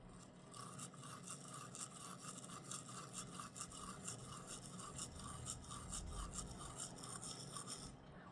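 Manual toothbrush scrubbing the front teeth along the gum line, a close, rapid rhythmic scratching of short back-and-forth strokes, steady throughout with no voices.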